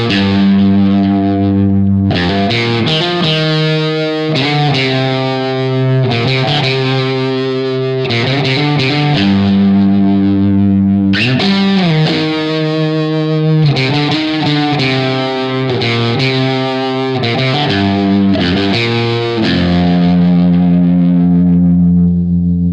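An electric guitar through a Marshall overdrive with a touch of tremolo pulse and spring reverb plays loud, distorted chord phrases in repeated bursts with brief gaps, the sustained chords throbbing and ringing out over about twenty seconds.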